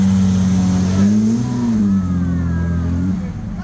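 Jaguar XK120 Roadster engine at a car show, a loud close idle rising into a rev and settling back, with a steady low rumble throughout.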